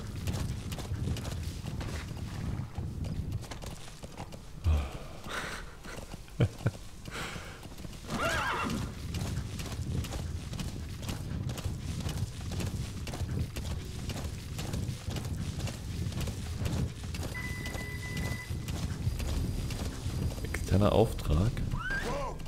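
Horse hooves clip-clopping at a gallop in Metal Gear Solid V, a steady rhythmic beat with occasional whinnies and neighs, heard alongside game ambience and someone talking over it.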